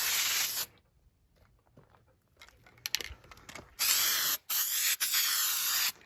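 A hissing spray paint can bursts out over old metal bins, stops, then returns in several long sprays with short breaks between them, close by with no talking.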